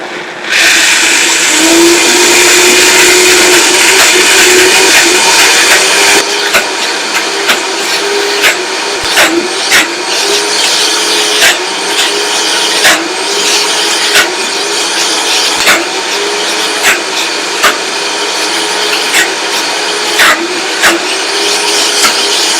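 A blender grinds nuts toward a creamy butter for lemon strawberry cheesecake bars, running loud and steady for the full stretch, its motor tone shifting after the first few seconds with repeated brief knocks and surges as the mixture churns.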